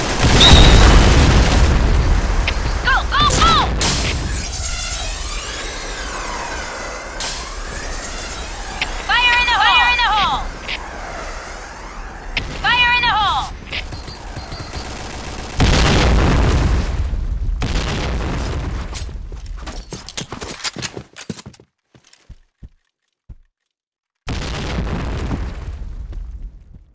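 Grenade blasts in a shooter video game, several heavy booms scattered through the clip amid gunfire and game effects, with voices talking over parts of it.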